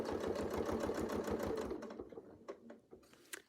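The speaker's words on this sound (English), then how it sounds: "we'll stitch our few stitches up to the point, and we'll come back down" A sewing machine stitching a quilt along a Westalee circles ruler chatters rapidly and loudly up close for under two seconds, then stops, leaving a few scattered clicks.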